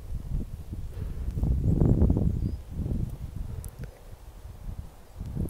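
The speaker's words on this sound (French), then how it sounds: "Désolée, il y a un peu de vent." Wind in open countryside buffets the microphone with a low, rumbling rush that swells in the middle and eases again. No one speaks.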